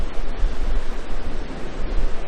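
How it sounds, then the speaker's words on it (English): Southern Ocean surf breaking on a South Australian beach, a steady close roar of waves and wash, loud and continuous with no voices. "Southern Ocean, South Australian style."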